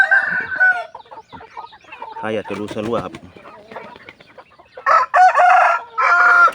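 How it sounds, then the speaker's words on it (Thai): Young Pa Koi chickens, about five to six months old, crow and cluck on a farm, with several loud crowing bursts near the end, while someone talks throughout. "ชุดนี้เป็นไก่รุ่นหาเดือนนะครับหาเดือนเขาหกเดือนครับ"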